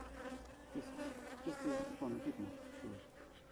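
Honeybees buzzing around an open beehive during a beekeeping inspection, a faint, steady insect drone with small rises and falls, heard from nearby with no speech.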